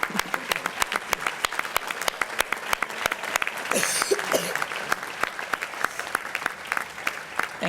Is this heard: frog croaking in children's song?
no